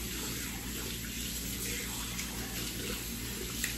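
Water runs steadily from a bathroom tap as it warms up before mixing a skincare product, a constant hiss and splash heard close by with no break.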